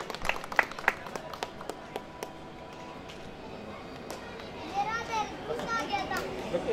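A crowd claps to welcome a guest at a Navratri gathering in a residential neighbourhood, scattered sharp claps at first and then busier clapping mixed with children's voices and chatter.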